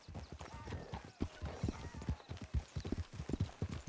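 Horse hooves clip-clop in a steady, brisk rhythm in Red Dead Redemption 2, the clopping close and continuous with no talking over it.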